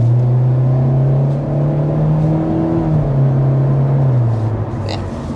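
A 2024 Hyundai Elantra's 2-liter four-cylinder engine hums and drones steadily from inside the cabin, its tone rising and shifting as it accelerates, loud and close.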